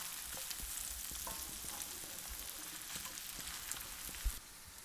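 Red onions sauté in an oiled pan, a steady soft sizzle and crackle with occasional stirring clicks, close and fairly quiet, no talk.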